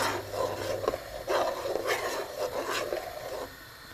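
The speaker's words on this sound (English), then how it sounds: "So you just grate the potato and the carrots and you just add it to the soup." Potato and carrots are grated by hand for soup, a rhythmic series of close, raspy scraping strokes, each lasting about half a second, with no talking.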